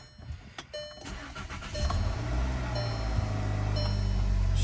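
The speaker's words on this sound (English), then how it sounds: "let's jump in here and fire her up for a minute" A 2014 Volkswagen Jetta with flood and storm damage cranks and fires up, a brief starter whir followed by the engine catching and settling into a steady close rumble.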